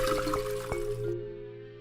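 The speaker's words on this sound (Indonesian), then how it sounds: "Fenomena inilah yang menyebabkan suara flush yang khas." A toilet flush, water rushing through the siphon tube as the bowl drains, a brief close gurgling wash with a few drip-like pulses that cuts off abruptly.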